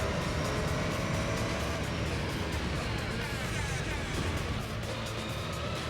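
A Pagani Zonda race car in Gran Turismo 3 drones on with a loud, steady engine roar that holds throughout with little variation in pitch.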